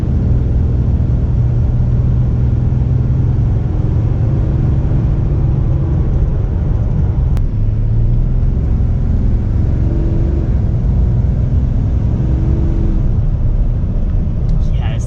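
A 2017 Ram 2500 Laramie Mega Cab with a stock 6.7L Cummins diesel pulls hard under acceleration, a loud, continuous low rumble and whir heard from inside the cab, with a voice talking over it.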